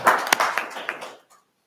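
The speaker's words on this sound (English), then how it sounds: "Give him a round of applause." Brief applause at a city council meeting, a short burst of scattered hand claps from a small gathering that thins out and stops within about a second.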